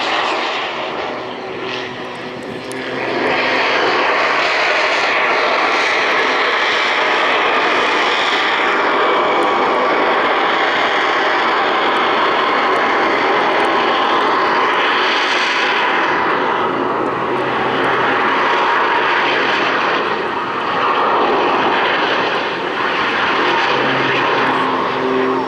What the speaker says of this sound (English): the combination of the turbojet and the propeller